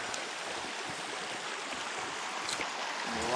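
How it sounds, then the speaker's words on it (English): A river runs past a campsite in the Yukon, giving a steady, even broadband rush of moving water that fills the whole stretch at moderate level with no voices. "Right here, we're camped out on this river."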